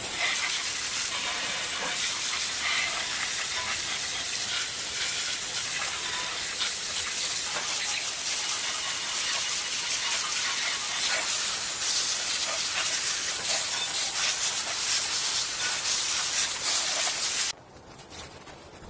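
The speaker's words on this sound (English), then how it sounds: "now we can shoot some water down into the cylinder area." Water sprays steadily onto the engine of a Toro TimeMaster lawn mower, its cover removed and the cylinder area exposed, giving a loud continuous hiss that stops abruptly near the end.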